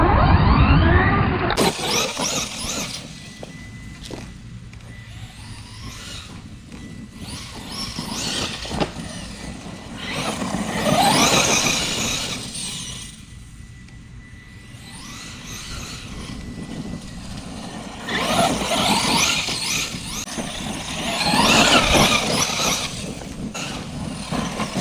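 An Arrma Kraton RC truck with a Rocket 6S brushless motor runs around a grassy front yard, its electric whine rising and falling in several surges as it accelerates and slows, heard from a short distance.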